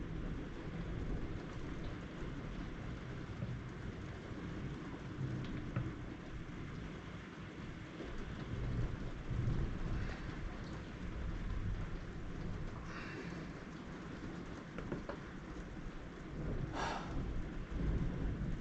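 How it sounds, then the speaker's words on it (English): Low rolling thunder rumbles on and off beneath steady rainfall, with a few sharper cracks standing out toward the end. "I love thunder."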